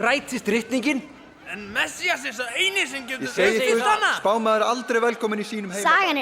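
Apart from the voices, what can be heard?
No distinct noise like a dog, phone or traffic.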